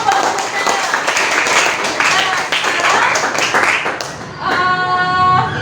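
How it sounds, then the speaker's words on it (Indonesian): A classroom group claps after a student presentation during a teaching practice session at Undiksha Singaraja. Dense clapping runs for about four seconds with voices mixed in, then gives way to a sustained tonal sound. "kasih tepuk tangan dulu"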